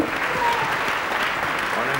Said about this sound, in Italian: Un bel applauso, un bel applauso.